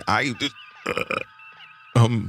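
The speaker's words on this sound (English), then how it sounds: "Did you just burp, sir?" A short burp in the middle of the clip, framed by brief bursts of nearby talking before and after.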